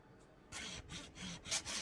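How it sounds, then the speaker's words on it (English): A Tamiya styrene saw cuts through a styrene model part for a Jersey barrier, giving several quick, close rasping back-and-forth strokes with short gaps between them. "I used a Tamiya styrene saw to cut this in half."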